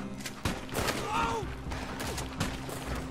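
Gunfire in the online mode of Red Dead Redemption 2, a few sharp shots cracking out at irregular moments over a busy, rumbling game soundscape, with a faint voice now and then.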